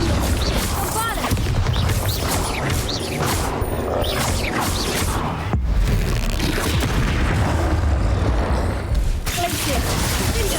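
Bombarda explosion spell going off in Hogwarts Legacy amid continuous loud booming, crashing combat noise with no break over about ten seconds.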